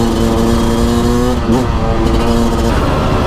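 A 2024 Beta RR 300 two-stroke enduro motorcycle revving loudly up close, its engine note holding steady, rising sharply in a quick blip, then settling into a rough, buzzing drone.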